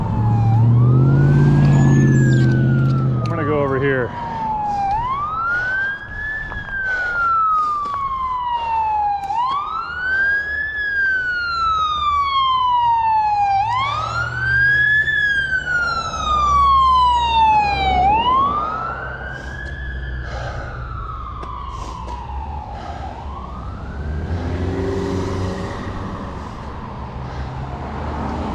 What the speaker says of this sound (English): Got sirens.